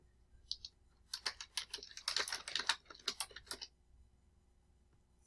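A name is typed on a computer keyboard, a quick burst of close, crisp key clicks in an uneven rhythm lasting a couple of seconds, preceded by a couple of isolated taps, in an otherwise quiet room.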